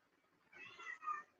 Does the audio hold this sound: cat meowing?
yes